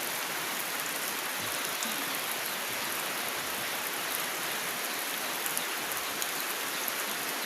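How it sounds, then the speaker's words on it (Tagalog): Steady, dense rain pours down during typhoon Basyang, a constant close hiss of drops on surfaces with no breaks and no voices. "Padayon gihapon ang pag-ulan karong adlaw, Biyernes, February 6, 2026 sa bagyong Basyang ni siya."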